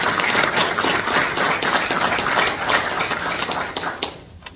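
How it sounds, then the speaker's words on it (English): A round of applause from an audience at an outdoor Wreaths Across America memorial ceremony in Novelty, Missouri, dense steady clapping that carries for about four seconds before quickly dying away. "Please join me in a round of applause for them"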